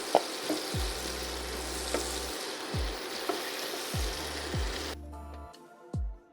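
Blackened shrimp sizzle steadily in a hot pan, a continuous frying hiss broken by occasional soft clinks and scrapes, with a brief quieter gap near the end.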